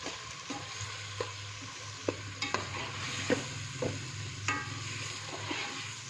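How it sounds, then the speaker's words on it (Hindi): Whole cumin seeds and spices for a chicken, potato and capsicum curry stirred and frying in a pan, a steady sizzle with repeated scraping clicks of the spoon throughout, close and moderately loud, no talking. "तो यहाँ पर अब हम मसालों को जो है वो अच्छे से मिक्स कर देंगे"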